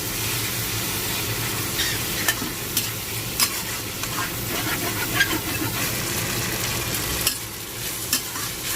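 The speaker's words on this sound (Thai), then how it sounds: "เราก็รวนกับน้ำมันจนมันเกรียมแล้วนะครับผม" Tofu stir-frying in hot oil in a wok, giving a steady close sizzle with repeated scraping and stirring clacks from a spatula, and no talk over it.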